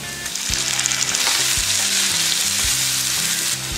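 Tomato and brinjal sauté with green chilli, curry leaves, asafoetida and onion in a pan, producing a loud close sizzle with rhythmic stirring scrapes of a spoon against the pan, no voices.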